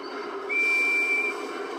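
Percy's steam engine whistle from the Thomas & Friends video game sounds once, a single clear, shrill tone lasting under a second over a quiet background hum.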